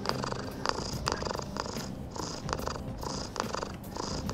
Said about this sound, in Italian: Morgana farà le fusa.